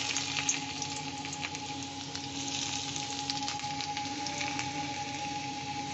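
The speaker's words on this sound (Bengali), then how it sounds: "কড়াইতে তেল দিয়েছি, এখানে আমি রসুন কুচনো দিয়ে দেবো" Chopped garlic fries in white oil in a wok, giving a steady close sizzle with fine crackling pops and a faint tonal hum underneath, continuous and even throughout.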